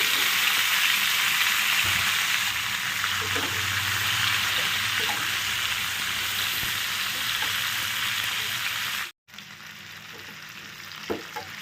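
Pumpkin, potato and eggplant pieces fry in hot oil with cumin, giving a loud continuous sizzle that holds steady before a brief break and then resumes more softly.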